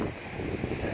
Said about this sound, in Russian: видно, насколько сильный ветер